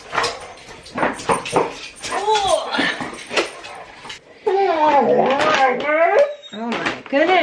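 Excited dogs whimper and yip in short bursts around a home kitchen before feeding time, the cries close and irregular, with occasional thumps and door sounds among them.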